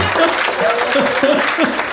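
Audience applause at a comedy show, a steady patter of clapping with a voice talking over it throughout.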